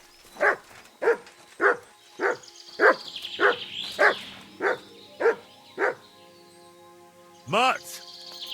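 A dog barks in the video game Kingdom Come: Deliverance II, a run of about ten sharp, evenly spaced barks up close, then a brief pause and one longer yelping bark at the end, with no talk.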